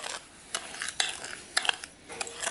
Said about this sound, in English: Just mix the baking powder and salt briefly.